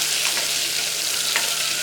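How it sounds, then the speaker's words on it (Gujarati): Ginger-chili paste sizzles steadily in hot oil for a Kathiyawadi green pigeon pea curry. It makes a close, continuous frying hiss with a few brief bursts of crackle, and no one speaks. "જે આપણે આદુ મરચાંની પેસ્ટ લીધી છે તે નાખીશું આને આપણે તેલમાં સાતળી લઈશું"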